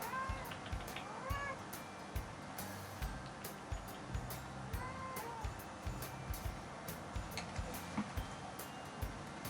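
A cat meows repeatedly at a moderate distance, several rising calls spread through the clip over faint background noise and scattered clicks.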